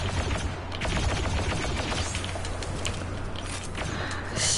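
Rapid gunfire in the Battlefront 2 video game on PlayStation, a continuous rattle of shots over a low rumble, dense and fairly loud throughout.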